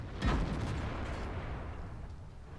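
A single heavy IS-7 tank cannon shot in World of Tanks: one sharp boom near the start, followed by a long rolling decay that fades across the remaining seconds, with no voices.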